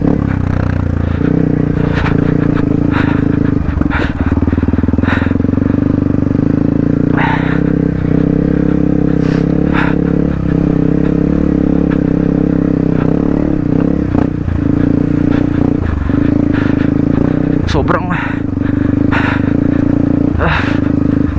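A motorcycle rides slowly over a rocky, low-traction trail. Its engine drones steadily and loudly throughout, with scattered scrapes and clatters from stones under the tires.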